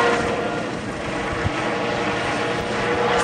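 A Eurocopter EC 135 T2 helicopter at an air show, its engine and rotor noise a steady, loud, broadband roar that holds evenly throughout without speech.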